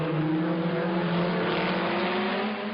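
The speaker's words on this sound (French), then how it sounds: "Parmi les concurrents français, les Renault Alpine type A210." Renault Alpine A210 race car with a Renault Gordini 1300 cc engine, a steady droning engine note with slowly rising pitch, continuous and moderately loud throughout.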